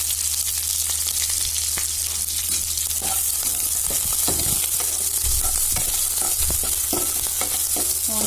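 Onions frying in oil in a pan for a vegetable kurma, a steady loud sizzle throughout with scattered scrapes and clinks of stirring, close by and with no voices.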